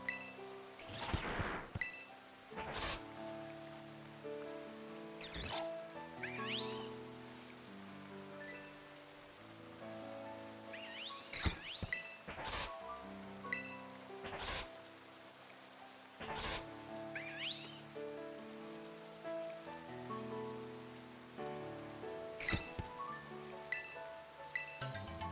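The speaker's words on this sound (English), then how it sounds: "the rain really got bad here" Rain falling in the Pokemon Scarlet game, a soft steady patter beneath a layered musical score with recurring chirpy accents, continuous and fairly faint, with no talking.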